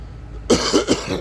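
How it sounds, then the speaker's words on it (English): A man coughs several times in a quick, harsh burst that starts abruptly after a quiet moment, loud and close to the microphone, with no talking over it. "Can't rid of this nasty cough"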